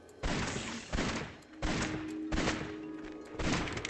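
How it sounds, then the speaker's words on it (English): Gunfire in the Cryofall video game as an enemy is shot: about five loud, close bursts of rapid shots, each lasting a fraction of a second, spaced fairly evenly with brief gaps between them. "let's go ahead and shoot this guy"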